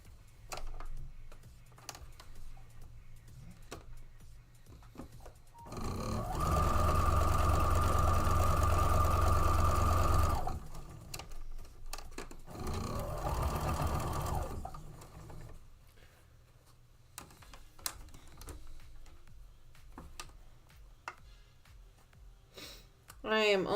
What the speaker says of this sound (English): I am almost done sewing these up